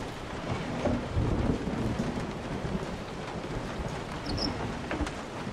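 Heavy rain pours steadily in Resident Evil 7 with low rumbling thunder rolling underneath, a dense continuous wash of sound without a break.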